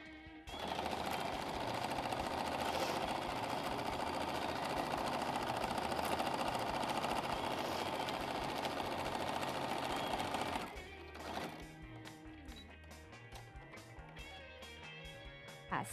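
A sewing machine stitches a seam through layered fabric pieces for a pillow or notebook cover, running loudly and continuously for about ten seconds before slowing into separate, evenly spaced stitch clicks.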